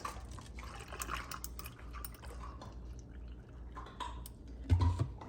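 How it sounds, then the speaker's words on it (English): Iced coffee poured over ice in a glass, with trickling liquid and light clinks of ice, ending in a slightly louder splash and clatter near the end. "now I will pour my coffee"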